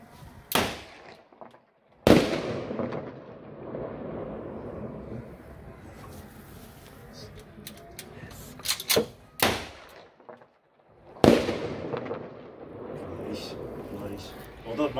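A red Zink 725 bird scarer gun fires several loud, sharp bangs, two of them ringing out with long decaying tails, while people talk outdoors between the shots.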